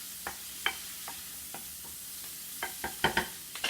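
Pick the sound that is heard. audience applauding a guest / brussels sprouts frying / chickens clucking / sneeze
brussels sprouts frying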